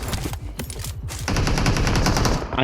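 Automatic gunfire in the battle royale game BGMI rattles out in rapid, loud bursts, first in short stuttering volleys and then one long sustained stream of shots, with no voices over it.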